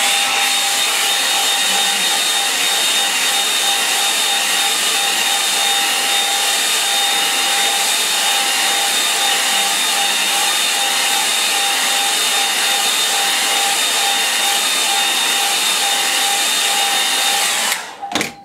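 A hair dryer blows steadily on a watercolour painting for a long stretch, a loud, even whirring hiss with a constant whine, then it cuts off abruptly at the end.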